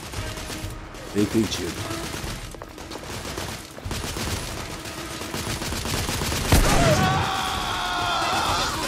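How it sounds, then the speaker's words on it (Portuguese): A portable cannon fires amid a chaotic battle din of rattling gunfire and mechanical clatter, with one heavy close blast standing out late; a voice briefly answers in between. "É um canhão portátil."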